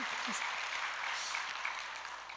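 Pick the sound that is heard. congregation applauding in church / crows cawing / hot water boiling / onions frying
congregation applauding in church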